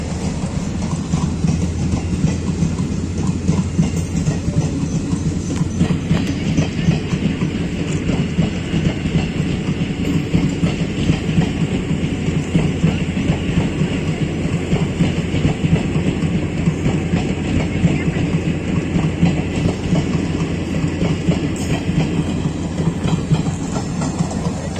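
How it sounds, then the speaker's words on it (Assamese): A passing train rumbles steadily with regular clickety-clack of wheels over rail joints, loud and close for the full length, heard from a nearby walking spot on a hill; no one talks. "ট্ৰেইনখন যি এতিয়া গ'ল"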